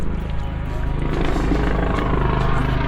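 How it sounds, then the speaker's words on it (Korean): Helicopter flying overhead near the Hollywood sign in Los Angeles, a loud, steady, broadband rotor and engine rumble that fills the clip without a break. "헬리콥터가"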